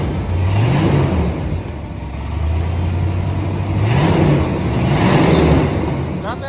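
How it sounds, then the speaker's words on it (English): The engine of a 1985 Chevy Suburban C20 rises and falls through a few moderate revs above its idle, a close, loud rumble with swelling pitch, while people talk faintly over it. "Okay, give her some revs."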